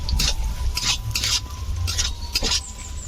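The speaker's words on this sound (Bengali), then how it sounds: "গাজর দিয়ে দেবো ভালো করে ভেজে নিতে হবে" Carrots frying in a pan are stirred, with quick rhythmic spatula scrapes, about seven strokes, over a low steady sizzle. The sound is close, and no one speaks.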